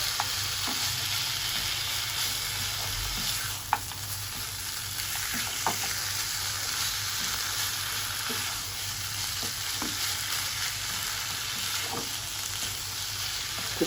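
Mutton curry being stirred in a pan, a steady frying sizzle running throughout with scattered spoon scrapes and light clinks against the metal, close and alone without any voices.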